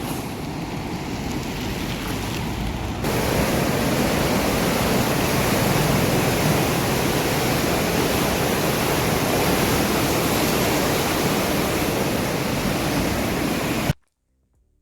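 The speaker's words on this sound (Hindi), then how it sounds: "इतनी ऊंची ऊंची लहरें उठ रही हैं नर्मदा नदी में" Water rushes in a steady, loud roar with high waves churning through the Narmada canal fed by the Sardar Sarovar Dam in Gujarat. The sound runs continuously without a break until it cuts off abruptly at the end.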